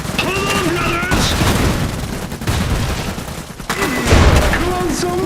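Rapid gunfire and booming blasts in an Iron Harvest video game battle, continuous and loud, with shouted unit voice lines over it.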